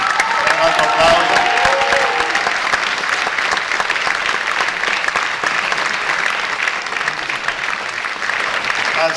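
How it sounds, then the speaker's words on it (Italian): A theatre audience claps steadily for several seconds, a dense, even crowd applause with a few cheers near the start. "attori Riccardo Zanella e Marica Marangoni, a cui un altro applauso"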